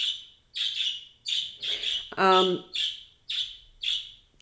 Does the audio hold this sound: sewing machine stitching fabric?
no